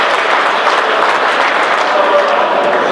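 Audience at a club gathering applauding their president, a sustained wash of many hands clapping at moderate loudness, continuous and even for the whole stretch.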